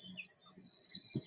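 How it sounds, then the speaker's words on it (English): Ambient birdsong in the Roblox game Bloxburg: several thin, high chirps and tweets scattered over a quiet background, with a few soft low thumps. "so there are birds chirping."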